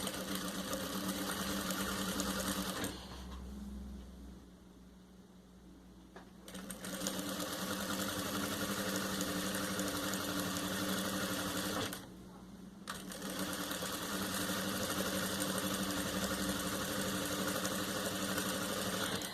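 A sewing machine stitches the side seam of a festa junina apron, a close, steady motor hum and needle rattle that stops twice briefly, once for several seconds and once for about a second, before resuming.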